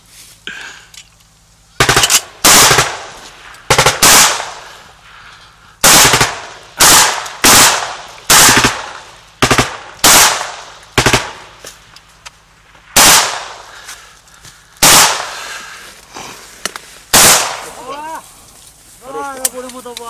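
Military gunfire from a checkpoint in the ATO zone in Ukraine: loud, sharp shots and short bursts arrive in irregular clusters, echoing between brief pauses, with a faint voice near the end.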